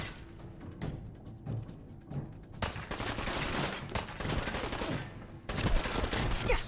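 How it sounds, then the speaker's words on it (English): A gun battle in Fallout 4 brings rapid, sustained bursts of gunfire at moderate volume, with clusters of shots building denser toward the end. "So now we're in a gun battle."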